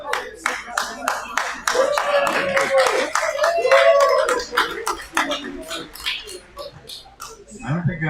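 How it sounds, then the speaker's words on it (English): A meeting audience claps in a brief scattered burst, individual hand claps distinct and close, while a person speaks over and between them. "I don't think I've ever gotten applause for saying hello."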